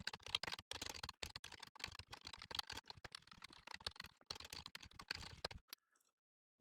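Rapid keystrokes on a computer keyboard while code is typed, a steady close clatter of clicks with brief pauses, stopping near the end and leaving near silence.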